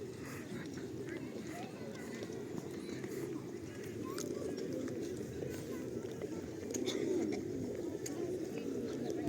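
Pigeons coo softly in a low, murmuring rhythm amid outdoor ambience near a pump room in Truskavets, with faint clicks and rustles scattered throughout.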